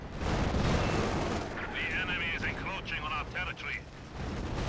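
Grenade blasts and gunfire in a WWII strategy video game, including RPG grenades thrown at tanks, rumbling explosions and scattered shots under steady commentary from a voice.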